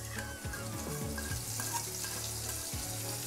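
Fried potatoes and spice paste sizzle and crackle steadily in a pan for a vegetarian banana-flower dish, with recurring scraping stir strokes under a low background hum and no talk.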